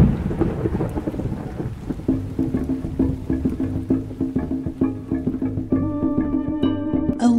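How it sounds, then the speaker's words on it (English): A wailing thunderstorm sweeping over old dwellings, with dense steady rain and repeated cracks and rolls of thunder, loud and close, heard alone as a sound effect. "A wailing storm sweeps over Collinwood and Meljardin."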